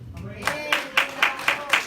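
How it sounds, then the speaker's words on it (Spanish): A church congregation gives a short burst of rhythmic clapping, hand claps landing on a steady beat about every quarter second, close and fairly loud, with a voice heard faintly beneath. "¿Cuándo le damos un fuerte aplauso al Señor?"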